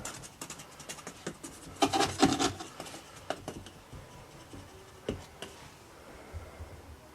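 Casting sand being rammed into a moulding box for aluminium casting: close, irregular scraping, rubbing and gritty thuds with sharp taps scattered throughout, with no talk.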